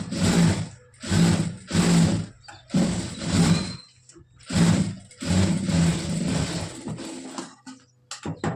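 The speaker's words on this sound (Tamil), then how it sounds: "இதை வெளிப்பக்கமாக திருப்பிட்டு இந்த ஓரத்தில் ஒரு ஸ்டிச் போடணும்" A sewing machine stitches along the edge of a coat in repeated bursts of whirring, about seven runs with short pauses between them, heard loud and close.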